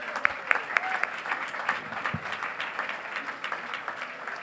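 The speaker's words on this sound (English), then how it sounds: "Can we have a round of applause?" Audience applause fills the room at a grand opening evening event for the OneEleven tech hub, steady and sustained clapping from a sizable crowd throughout, a few sharper claps standing out near the start.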